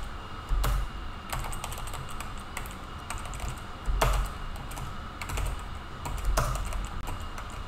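Code comments being typed on a computer keyboard, a steady run of light key clicks with a few heavier strikes, close and alone.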